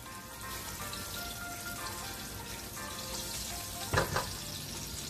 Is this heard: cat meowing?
no